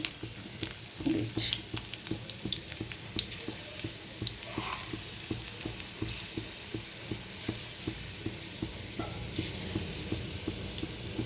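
Dhoka fritters, made from a lentil batter, fry in oil in a kadai with a low, even bubbling sizzle. Soft rhythmic taps and scrapes of a utensil run through it, fairly quiet and close.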